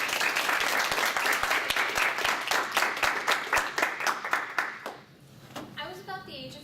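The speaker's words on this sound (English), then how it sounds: "let's go ahead and clap for Lila" Audience clapping to welcome a student giving a demonstration speech, a steady burst of close handclaps that thins out and fades after about five seconds, followed by a voice beginning to talk.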